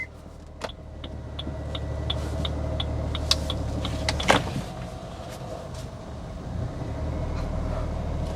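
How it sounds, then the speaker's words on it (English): A Maruti Suzuki Grand Vitara strong hybrid SUV creeps backward in reverse with a low, steady interior rumble, while a soft chime repeats at a regular pace and a brief clunk lands midway. "Now the vehicle is moving on reverse."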